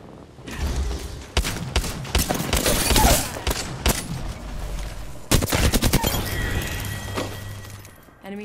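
Gunfights in Apex Legends bring loud bursts of automatic fire with sharp shattering cracks, starting and stopping in several volleys, the heaviest near the start and middle, then a lingering hum.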